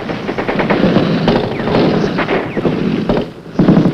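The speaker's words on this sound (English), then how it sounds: "at least 30 VC opened fire from the village ahead" Gunfire from about 30 Viet Cong in a village during 1966 Vietnam War combat, heard as rapid bursts of machine-gun fire, loud and close, over rushing wind noise across the whole clip.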